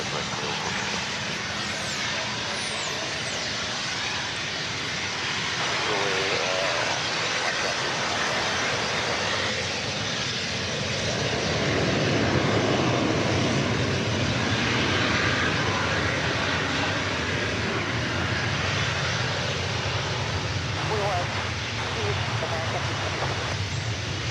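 A jet airliner takes off at DFW Airport, its broad engine roar loud and steady throughout and swelling slightly toward the middle, with no clear pause in the noise.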